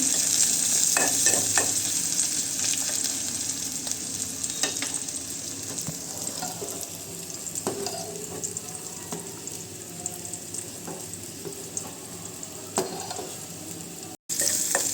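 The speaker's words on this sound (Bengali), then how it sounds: "আম দিয়ে ডাল রান্না করেছি বাগা দিচ্ছি" Chopped onion and a few garlic cloves fry in hot oil as a tempering for mango dal, a loud, continuous close sizzle with repeated spatula scrapes and taps, cutting off abruptly near the end.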